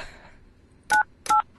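Two short telephone keypad dialing tones sound in the video game Big Time Monkey, crisp electronic beeps about half a second apart, heard alone over a faint background hiss.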